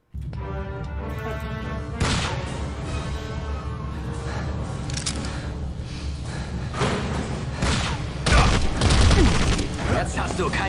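A grenade blast in an Indiana Jones trailer lands as a heavy, booming thump amid dense orchestral music and action noise, with a louder impact near the end and voices talking throughout.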